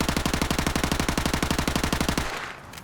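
An MP5 submachine gun firing a steady fully automatic burst in Modern Warfare Remastered, around twenty evenly spaced loud close shots that stop abruptly with a short tail.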